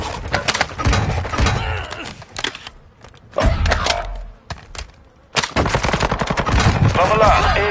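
Rapid automatic gunfire bursts from a Call of Duty match, loud and close, with short gaps between volleys and players talking over the shooting.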